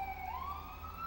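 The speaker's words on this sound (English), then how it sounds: "And there's a siren." An emergency vehicle siren wails steadily, rising in pitch as it sounds fairly close over a constant low rumble of traffic, with no talking.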